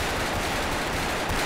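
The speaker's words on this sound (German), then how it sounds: "Ah, da fallen aber ordentlich Schüsse." Dense automatic gunfire fills the Brick Force first-person shooter video game with a continuous rattling barrage of overlapping shots, loud and unbroken throughout.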